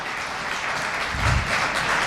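A church congregation claps together in a steady, dense round of applause that swells slightly toward the end of the brief burst.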